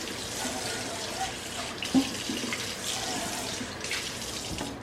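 Tap water runs steadily into a kitchen sink while a colander is rinsed, a continuous close splashing rush with a brief clunk midway and no talk over it.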